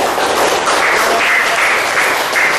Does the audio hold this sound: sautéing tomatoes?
no